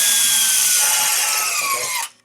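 A saw cuts a hole through sheet metal with a continuous, bright, harsh rasp lasting about two seconds, then stops abruptly.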